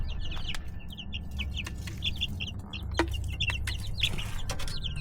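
Backyard chickens cluck in repeated short bursts, several birds close by over a low steady background hum, with no talking.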